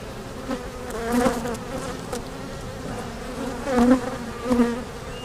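Honey bees buzz in an opened swarm hive during an inspection, a dense droning hum with louder swells as individual bees fly close by the microphone, no voices.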